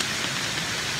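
Steady rain falling in woodland beside a river, a continuous soft hiss of drops pattering on leaves and ground, even and unbroken throughout with no voices.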